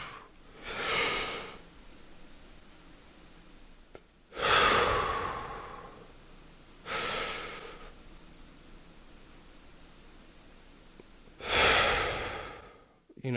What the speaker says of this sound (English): taking a big deep breath and holding it in